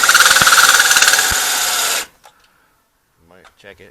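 A power drill runs into the rear brake assembly of a 2011 Ford F-150, a loud pulsing whine for about two seconds that stops abruptly, followed by a few small clicks and brief speech.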